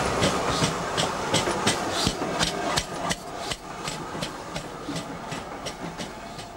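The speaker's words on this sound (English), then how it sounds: "Number 2968 backs into the station." LMS Stanier mogul steam locomotive No. 2968, built in 1933, backs slowly into a station with rhythmic metallic clanks and wheel clicks over rail joints, close by and fairly loud, no voices.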